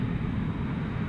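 An Airbus A350-1000 airliner at DFW Airport at night, a steady low, distant engine rumble with even loudness and no voices.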